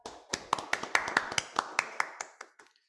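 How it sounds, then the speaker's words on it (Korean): Audience applause at a Korea–Colombia post-COVID health cooperation forum: a dozen distinct claps in a quick uneven rhythm, close and crisp, thinning out and stopping within three seconds. "힘찬 박수 부탁드리겠습니다"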